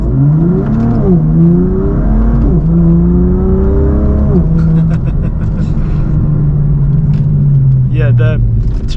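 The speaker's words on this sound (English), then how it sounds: "I accelerated like fairly quickly from there, and it didn't even, like, you know, didn't even spin tires." A BMW M4 F82 accelerates hard, its loud engine note climbing in pitch and dropping at shifts through the gears, heard up close from inside.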